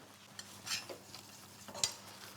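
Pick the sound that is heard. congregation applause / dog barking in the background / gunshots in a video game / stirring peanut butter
stirring peanut butter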